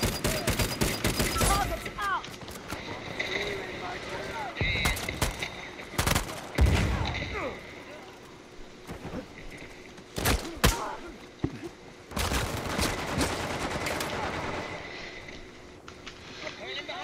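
Gunfire in Uncharted 4 multiplayer: sharp bursts of shots in clusters, loud and close, separated by quieter gaps with ambient game noise.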